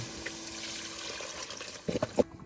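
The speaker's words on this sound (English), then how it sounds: "We're going to go in with some vegetable stock." Vegetable stock trickles into a hot pan with light liquid sounds, ending in a few sharper splashes and sizzles near the close.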